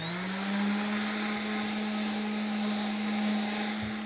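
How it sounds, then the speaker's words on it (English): A palm sander sands a piece of wood, its electric motor giving a steady, close, loud whine that holds even throughout with no voices. "we're going to go ahead with our palm sander and we're going to give this a sand"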